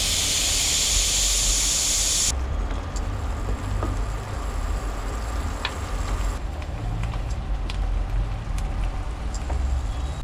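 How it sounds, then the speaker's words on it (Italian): A pressure cooker hissing inside a camper gives off a steady, loud jet of steam that cuts out after about two seconds. A softer hiss follows, broken by faint clicks and taps. "la pentola a pressione che fischia"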